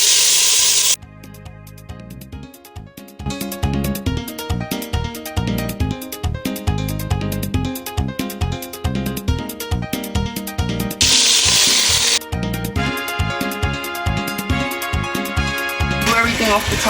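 Chicken pieces for a Spanish-style pollo guisado sizzle loudly in a hot pan on a stovetop. The frying is a steady, close hiss and crackle that swells in sharp bursts, with no voices.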